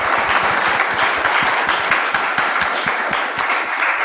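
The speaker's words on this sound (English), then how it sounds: "big round of applause for Klaus" A conference audience bursts into steady, dense applause for presenter Klaus after his talk on CrowdSec infrastructure defense, many hands clapping at once and sustained at an even level throughout.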